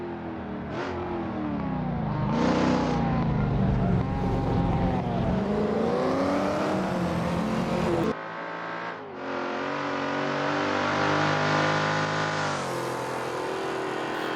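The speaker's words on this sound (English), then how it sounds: "Just listen to the grunt of the power of the Mustang and the screaming engine in the back of that Hillman Imp." Race car engines from a Mustang and a rear-engined Hillman Imp in an Assetto Corsa British saloon car race, loud continuous revving and gear changes with pitch sweeps, one car passing close and another screaming high behind it.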